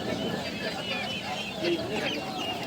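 Many small country chicken chicks chirp and peep at once in a busy, continuous chatter at a market in Tiruchirappalli, with a voice talking underneath.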